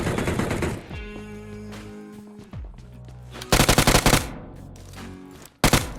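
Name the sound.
gunfire in the video game BGMI (PUBG Mobile)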